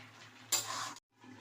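A spoon stirs Malabar spinach curry with shrimp in a pan, giving one brief, close scraping swish that cuts off abruptly and is followed by a faint sizzle.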